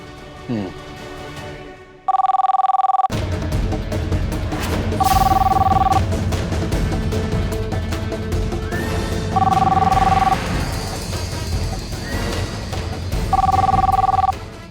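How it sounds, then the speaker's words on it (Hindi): A home landline telephone rings in four separate bursts of a steady electronic double tone, loud and close, with dramatic TV-drama music and background sound between rings. "मैं राघव को घर के नंबर पे फोन करती हूँ"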